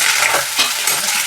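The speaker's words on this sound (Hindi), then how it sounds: "ऊपर से घी डालती हूँ मटर में" Peas frying in ghee hiss with a loud, steady sizzle while a spoon stirs them, scraping briefly through the continuous frying noise, close up with no voices.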